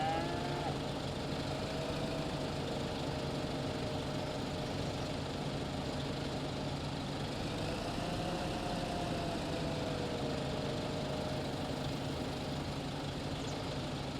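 A tractor engine idling in a farming video game, parked beside a liquid fertilizer sprayer during weeding and fertilizing work, a steady low droning hum with no talk, alongside a faint lowing sound in the game.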